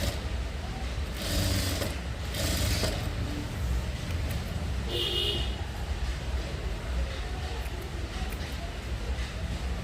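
A sewing machine stitches a sleeveless blouse in a tailoring session, its whirring motor running in short low bursts against a steady hum, moderately faint.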